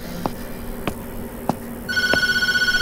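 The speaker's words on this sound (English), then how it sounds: "It's the phone." A telephone rings in the horror game Tattletail, entering after a few soft thumps and holding a steady, fast-trilling electronic tone that pulses rapidly and rather loudly to the end.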